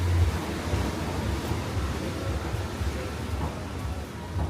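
Ocean waves at a beach in Canggu, Bali give a steady broadband wash of surf with some wind rumble, continuous and fairly loud, with no voices.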